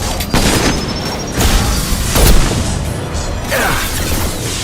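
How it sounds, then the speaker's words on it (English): Grenade launcher blasts from the Mass Effect 2 shooter game, heard as several heavy booming thumps at intervals over continuous battle noise, loud and close. "Grenade launcher"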